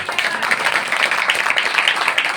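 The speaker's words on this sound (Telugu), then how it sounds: "కొట్టండి చప్పట్లు" A church congregation at an anniversary service claps continuously for a couple of seconds, a dense, even patter of many hands at moderate loudness.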